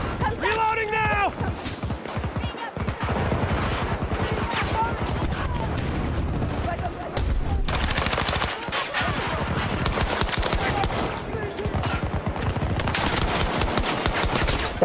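Automatic gunfire rattles in rapid bursts in a video game, loud and near throughout, with a player's voice speaking over the shooting.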